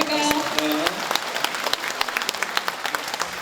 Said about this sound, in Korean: 큰 박수 한 번 더 부탁드려도 될까요